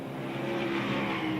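A Can-Am race car roars past at speed on a track, a brief, fairly faint sustained engine whine with a slight pitch sweep and no talk over it.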